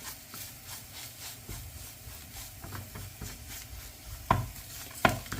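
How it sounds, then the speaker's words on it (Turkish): Flour and tomato paste are stirred and roasted in a pan for wheat soup, giving soft repeated scraping strokes over a faint sizzle, with a couple of sharper utensil knocks near the end. "Şimdi bunu da birkaç dakika boyunca bu şekilde hiç bırakmadan karıştırarak kavuralım."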